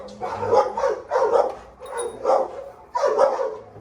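A dog barks in a kennel during an enrichment session, a close, loud series of five barks spaced evenly with short pauses between them.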